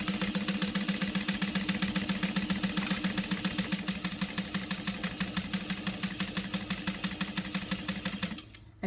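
A sewing machine stitching a strap runs in a fast, steady mechanical chatter close up for about eight seconds, then winds down and stops.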